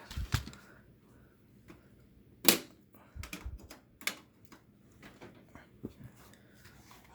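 Keys on a computer keyboard being pressed while hooking up an old Windows Vista PC, with scattered irregular clicks and a few sharper louder strokes, close by and with no talking.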